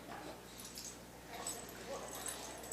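Dogs playing together, letting out faint whimpering, yipping and growling noises in short, scattered bursts against a quiet background.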